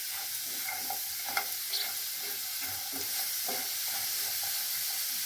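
Sliced ridge gourd dry-roasts in a pan with no oil, giving a soft steady sizzle broken by scattered crackles and stirring scrapes, close and moderately quiet with no voices.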